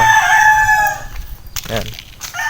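Rooster on a chicken farm, crowing loudly and close by in one drawn-out call at the start, followed by softer clucks and bird calls from the flock.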